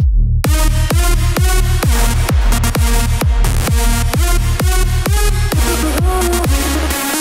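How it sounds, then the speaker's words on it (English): An electronic dance drop: a deep sub kick pounds in a steady four-on-the-floor pulse under a loud, thick distorted synth melody. The synth plays without pitch or detune effects, and the full mix stays dense and driving throughout. "like one of those big kind of sub kicks, and a big distorted synth."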